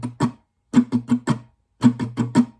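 Guitar strumming in the pattern for a song's live version, with certain strums accented harder than the rest: two groups of quick, close strums separated by brief pauses, played alone with no voice.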